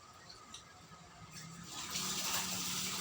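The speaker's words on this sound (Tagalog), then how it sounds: "Hugas tayo ng plato." Running water from a faucet while dishes are washed, a soft trickle that swells into a fuller gushing flow, close by with faint clinks under it.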